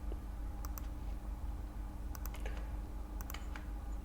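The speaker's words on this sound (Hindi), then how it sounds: "मैं यहाँ पर इंटर करता हूँ।" Computer keyboard keys tapped while working in Microsoft Word 2019, a few light, quick clicks in small clusters over a steady low background hum.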